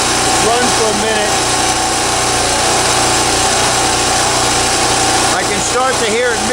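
Champion 3650/4500 generator engine runs steadily with a droning buzz, starting to misfire near the end as it runs short of fuel, close, with someone talking over it.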